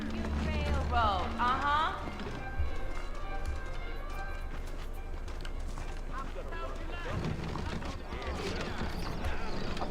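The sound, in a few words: horses riding in video game Red Dead Redemption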